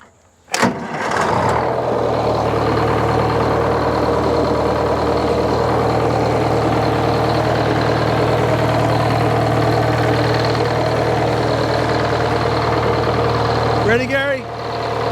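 A Detroit Diesel engine powering a Frick sawmill at a county fair cranks and catches with a sharp start, then settles into a loud, steady, rumbling idle that runs on for many seconds. A brief higher sound breaks in near the end.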